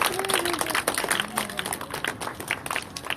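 Audience at a prize-giving ceremony clapping in a brisk, continuous patter of many hands, fairly close, with voices faintly mixed in.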